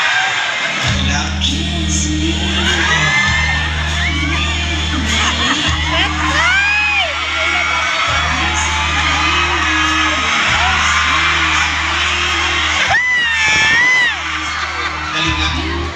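A crowd of children and adults shouts, whoops and cheers loudly and continuously at a lively party-style gathering, with excited yells and shrieks rising above a steady, dense din.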